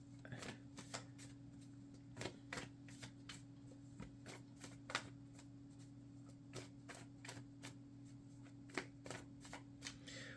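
Tarot cards being shuffled by hand, with soft riffling and repeated crisp snaps of card edges, fairly quiet and close, over a faint steady hum and no talking.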